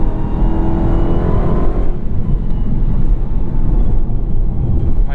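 A 2021 Dodge Charger SRT Hellcat Redeye accelerating hard on country roads, a loud, continuous engine roar that swells and then settles into a steady rumble.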